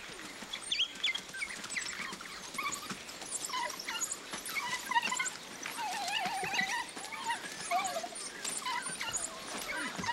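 Litter of twelve African wild dog pups nursing together at their mother, giving a steady chorus of soft, high whimpers and squeaks with busy rustling and patter throughout, fairly close and continuous.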